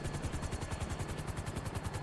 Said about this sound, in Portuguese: Olha o helicóptero todo